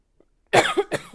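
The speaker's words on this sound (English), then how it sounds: "Excuse me, I've got a cough." A single harsh cough close up, followed by a second short cough, after a faint tiny click.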